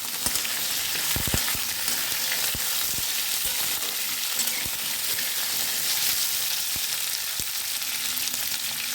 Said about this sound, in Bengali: কাঁচা লঙ্কা দিয়ে দিচ্ছি, আবার একটু নেড়ে নেব